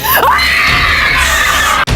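A loud, sustained scream rings out from the first floor of an abandoned mansion in Iloilo, piercing and continuous for about two seconds before cutting off abruptly.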